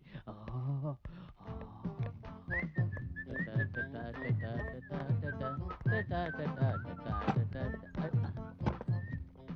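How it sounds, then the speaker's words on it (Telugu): A person whistles a tune in a rising and falling melodic line, close and clear, with a rhythmic clopping beat and other voices underneath. "గట్టిగా మోగింది, ఈల మోగింది"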